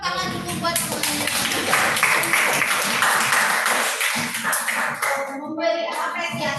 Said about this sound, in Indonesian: kasih tepuk tangan dulu buat semuanya